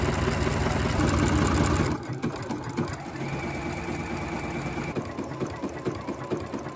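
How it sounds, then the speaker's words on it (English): A sewing machine stitches channels into fabric, first in a loud steady run, then in quieter stop-start bursts of rapid mechanical whirring close by. "let's get to sewing."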